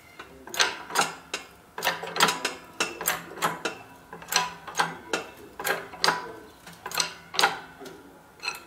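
Clamp slipping on a roll cage tube being bent in a press over a V-block former, heard as a long run of sharp, regular ratcheting clicks and snaps at a steady rhythm, fairly close and with no talk.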